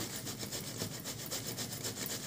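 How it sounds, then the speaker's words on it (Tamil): Raw banana is grated on a hand grater, making faint, steady rhythmic scraping strokes at close range. The strokes repeat evenly, about four or five per second, with no talk. "இப்போ ஒரு துருவுறது எடுத்துட்டு இப்போ துருவ ஆரம்பிச்சிடலாங்க"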